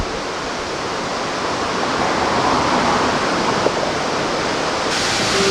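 Ottawa's waterfall near downtown roars as a steady, loud, broad rush of falling water, heard from a river cruise boat in front of the main falls, with no talk.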